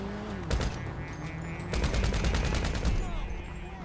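Rapid bursts of gunfire in the video game GTA V during a one-on-one match with sniper and marksman rifles, two loud close volleys of repeated shots, the second longer, with a steady tonal hum beneath.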